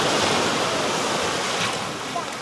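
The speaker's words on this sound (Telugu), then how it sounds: "ఈ వాటర్ అయితే డైరెక్ట్ ఇగో లోపల గుంజేసుకుంటుంది" Sea water surges and washes up on the beach at Chirala, with a loud, close, continuous broadband rush of surf and no talk.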